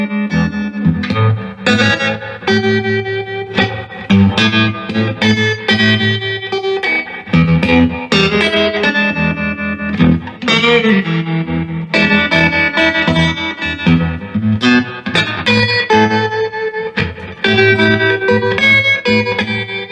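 An electric guitar plays through a Fender 1966 Deluxe Reverb amp with reverb and tremolo on and intensity all the way up, loud strummed chords and lines pulsing and shimmering with a wash of reverb, continuous with no talking.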